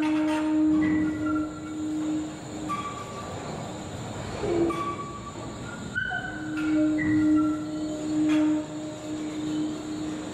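A Wuppertal Schwebebahn suspension railway train in new livery passes, a steady rumble with metallic wheel squeals and tonal hums rising and falling over about ten seconds, fairly close and loud, with no voices.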